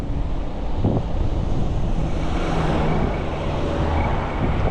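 Strong wind buffeting the microphone during an e-bike ride through Hawthorne, New Jersey: a steady, loud roar of rushing air, constant and broadband, with no voices.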